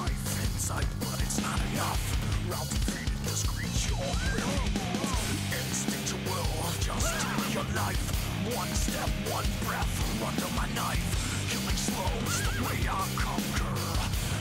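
A horse whinnies repeatedly amid a dense, loud mix of Metal Gear Solid V: The Phantom Pain game sounds and music, with occasional speech underneath.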